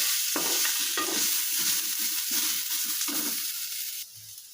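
Onions fry in hot oil in a pan, a close, loud, continuous sizzle broken by repeated scraping stir strokes, with no talking.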